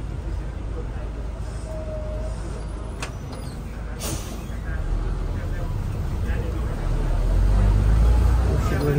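Bus travelling between Thailand and Laos, its engine rumbling steadily and growing louder, with a brief hiss like an air brake release near the middle.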